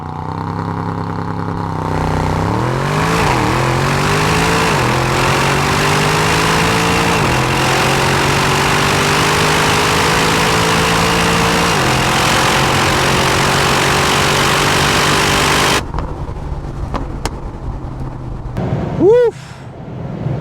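An Aston Martin DBX707 SUV accelerates hard at launch, its loud engine note climbing through several rising gear sweeps before cutting off abruptly near the end, followed by a brief whine.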